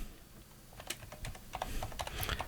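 Quiet, irregular keystrokes on a computer keyboard, with clicks that pick up after the first second and continue in an uneven patter without speech.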